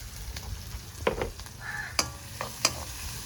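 Dried chillies and onions frying in a pan while being stirred, with soft sizzling under sharp scraping and clinking strokes of a utensil against the pan, irregular and close.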